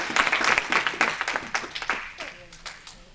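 A congregation claps and cheers in a church service, a brisk burst of applause that thins out toward the end, close and fairly loud with voices mixed in.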